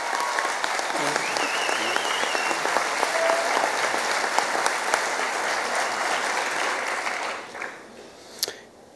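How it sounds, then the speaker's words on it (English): Sustained applause from a large audience at a fire academy graduation ceremony, dense and steady before tapering off into a few scattered last claps. "Let's give them another round of applause."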